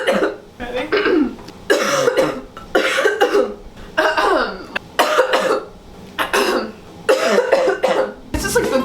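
A woman deliberately imitates gross, phlegmy coughing, producing a close, loud series of harsh rasping coughs and throat-clearing bursts in quick succession.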